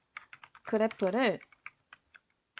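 A name is typed on a computer keyboard in short, irregular bursts of close key clicks, with a voice speaking briefly over the middle of the typing.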